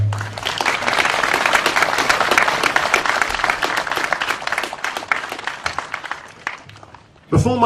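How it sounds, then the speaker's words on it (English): Loud crowd applause at an outdoor pro-police rally, dense clapping from many people that stays strong, thins slightly toward the end, then is cut by a brief voice. "So you guys deserve a round of applause as well."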